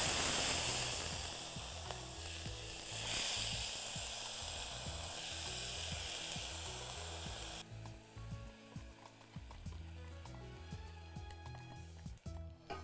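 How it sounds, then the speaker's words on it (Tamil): Soaked rice sautéing in hot oil in a pan on the stove, a loud hissing sizzle that drops off partway, leaving quieter crackles and faint knocks. "இந்த எண்ணெயிலே இந்த அரிசியும் நல்லா வதக்கணும்."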